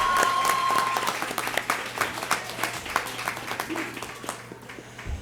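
An audience applauds at a hospital anniversary gathering, a steady wash of many hands clapping that holds for several seconds before thinning out, with a low steady hum underneath.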